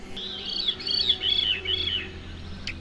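Birds sing at a sanctuary in a clear, close series of rising and falling whistled phrases, repeated about four times in a steady rhythm, with a quiet background and a short chirp at the end.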